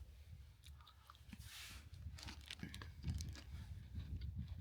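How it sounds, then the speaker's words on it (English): Crunchy chocolate snacks are eaten outdoors while walking the West Highland Way near Conic Hill. Quiet, close biting and chewing crunches repeat in an uneven rhythm over low outdoor background noise, with faint crinkling. "Sorry, just can't stop eating them."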